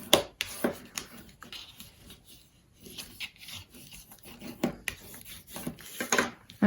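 Rubbing strokes of a bone folder burnishing the paper side flaps of a 6 1/2 x 6 Easter mini album, a series of close, dry rasping swipes with short pauses between, no talking.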